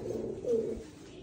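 Rajshahi Giribaz pigeons coo softly in a brief, low, murmuring burst, close by, with no voices.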